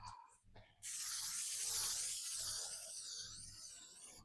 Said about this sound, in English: I'm going to spray my counter in nonstick cooking spray